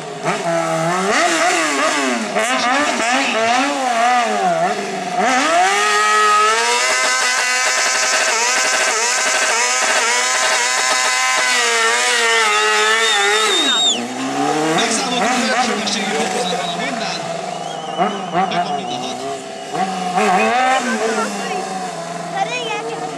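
A street-fighter motorcycle at a stunt show revs loudly and continuously with rising and falling engine pitch, then drops in level partway through while someone talks over it.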